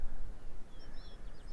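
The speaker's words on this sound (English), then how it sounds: "I'm hearing some birds calling over here," Faint birds calling in the distance, a few thin chirps and warbling notes over a low, steady outdoor rumble.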